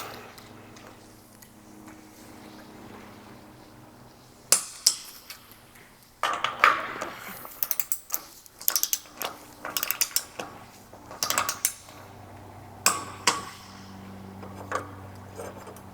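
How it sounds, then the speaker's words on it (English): Mechanical ratcheting clicks and metallic taps from a torque wrench snugging bolts to 19 foot-pounds on a double hydraulic PWC lift, coming in short irregular bursts after a quiet start, close and fairly loud. "I'm going to take my torque wrench and snug them up to 19 foot-pounds"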